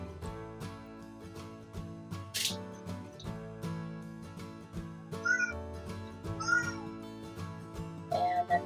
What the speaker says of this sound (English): And that's my cat saying hello.